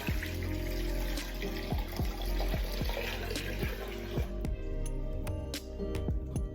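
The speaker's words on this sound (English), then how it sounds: "we're gonna pour in our apple juice" Apple juice poured onto brown sugar for a clove toddy, a steady close liquid pour running continuously and fairly loud throughout.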